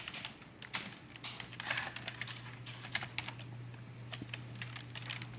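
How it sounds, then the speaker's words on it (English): Rapid clattering keystrokes on a computer keyboard during a live coding stream, irregular bursts of clicks with a steady low hum underneath, close and moderately quiet, no voice. "I feel like my typing gets worse when I'm on stream"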